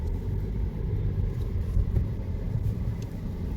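A car's engine rumbles steadily from inside while driving along a crowded Saturday road, a continuous low drone with mild swells and no talking.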